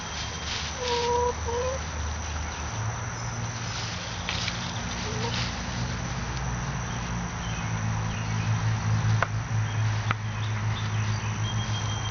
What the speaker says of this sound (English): 40 or 50 chickens in this outdoor area alone